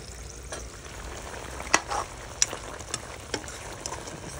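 Oxtail stew cooking in a pot outdoors gives a faint, steady sizzle and bubbling, with a few sharp ticks and clinks scattered throughout.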